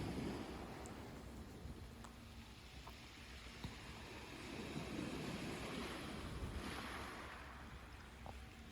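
Surf rolling onto the beach at Amed, a steady wash of breaking waves with some wind noise, fairly quiet and continuous with no voices.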